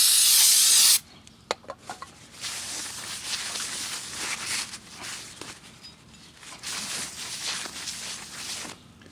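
Brake cleaner sprayed onto brake parts during a Ford Fiesta brake service: a loud close hissing burst at the start, followed by softer intermittent spraying and rustling handling noises.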